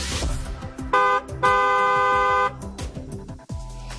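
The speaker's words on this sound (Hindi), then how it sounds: "हॉर्न बजाना जरूरी है।" A vehicle horn honks twice, a short blast followed by a longer steady one, over a jumble of descending electronic sweep effects.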